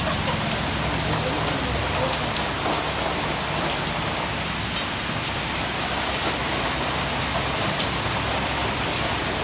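Heavy rain pours with gusting wind in a seaside setting in Thailand, a loud, steady, dense hiss of drops on surfaces filling the whole stretch without a break.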